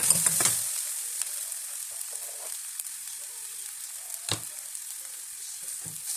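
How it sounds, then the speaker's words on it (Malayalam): Crushed ginger and garlic sautéing in a pan, giving a faint steady sizzle with a few soft clinks of stirring near the start and a couple of isolated taps later, close but quiet. "അതിൻ്റെ പച്ചവാസനയൊക്കെ മാറുന്നത് വരെ നമുക്കതൊന്ന് വഴറ്റിയെടുക്കാം"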